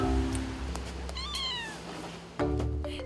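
A 50-day-old kitten meows in a short series of high, rising-and-falling cries, close and clear over a faint hum of background noise, with no talk.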